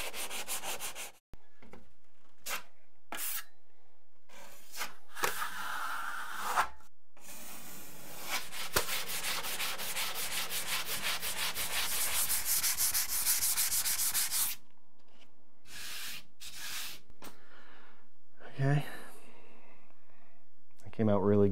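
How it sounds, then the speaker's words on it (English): Hand sanding a drywall patch smooth, a steady dry rubbing scrape that runs in a long continuous stretch, with shorter bursts around it and a brief voice near the end. "I'm gonna try and sand this patch down more flat"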